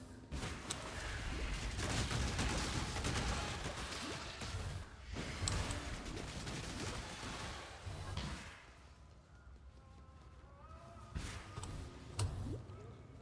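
Rapid bursts of fiery projectile impacts and clattering hits from enemies in Path of Exile, dense and choppy through the first half, then thinning into sparser thuds and ticks.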